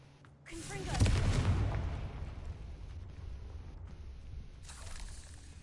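A Confringo fire blast spell explodes in the game Hogwarts Legacy, a single loud boom with a rumbling tail that fades into a low, steady background hum.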